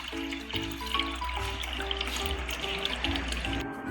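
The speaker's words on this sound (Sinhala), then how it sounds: "දැන් ඊ අර ඉතුරු ටිකට අපි අලුත් වතුර ටිකක් දාගමු." Fresh water pours and trickles into a fish tank during cleaning, a soft, steady close splash beneath background music.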